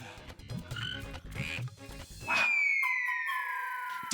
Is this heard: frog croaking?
yes